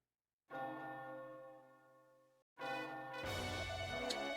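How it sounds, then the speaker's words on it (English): A synthesized bell tolls in the Dragon Quest Monsters: Joker video game, two sustained ringing strikes with rich overtones, the second followed by a brighter chiming flourish, heard alone and fairly quiet. "Listen to that bell ring"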